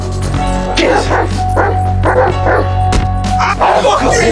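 A dog barks, yips and growls in a GTA V gameplay scene during an attack, with rhythmic repeated bursts over a constant low game hum, loud and close, sometimes mixed with shouting.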